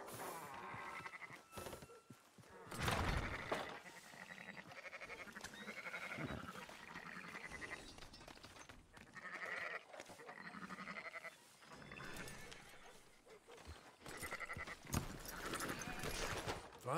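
Sheep in Red Dead Redemption 2 bleat repeatedly in a flock, several overlapping wavering cries spread across the scene, close and fairly loud, with brief hoof clatter between calls.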